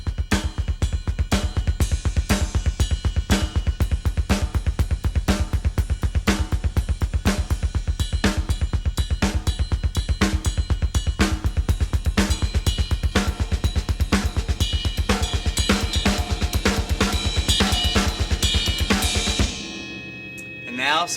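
Drum kit plays continuous fast double bass drum strokes with snare and cymbal hand patterns on top, loud and close, with a crash cymbal ring and brief pause at the end.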